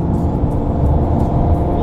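Ford Mustang fitted with a Whipple supercharger pulls hard in sixth gear during a roll race, a loud, steady, dense engine roar filling the cabin without a break.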